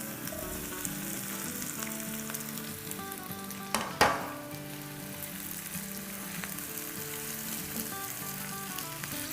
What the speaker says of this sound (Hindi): इसको सौटे करेंगे और अब इसमें ये चिकन डाल देंगे।